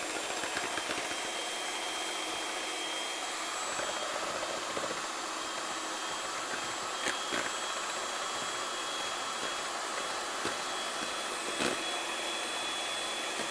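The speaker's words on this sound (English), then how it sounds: "Now I have to make a lot of noise while I beat the egg yolks." Egg yolks for a lemon delicious pudding are beaten with a steady, loud whirring drone that runs unbroken throughout, with occasional faint clicks and no speech.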